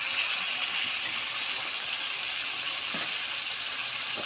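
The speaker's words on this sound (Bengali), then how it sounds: "অল্প একটু পানি দিব।" Broad steady sizzle of pointed gourd and potatoes frying in a pot as a little water goes in, a continuous hissing wash with a faint stir or clink near the end, no voices.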